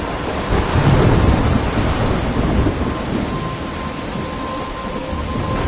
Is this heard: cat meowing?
no